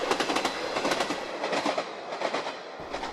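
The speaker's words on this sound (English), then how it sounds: "Where else could you see a train go over an oil platform?" A train crossing a bridge beside an oil platform on the Cromarty Firth: continuous rumbling and rhythmic clickety-clack of wheels over the structure, fairly close and steady, with no voices.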